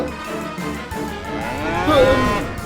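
A buffalo lows in an animated Hindi folk story, a long drawn-out moo that swells and wavers, close and fairly loud, with no talking over it.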